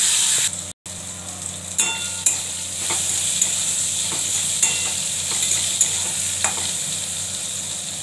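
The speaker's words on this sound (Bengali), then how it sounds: "বেগুনটা ভাজছি, নুন হলুদ দিয়ে দেবো" Eggplant slices and neem leaves sizzle steadily in hot oil, a continuous close frying hiss broken by a few sharp scrapes and clinks of a spatula stirring the pan, with no talking.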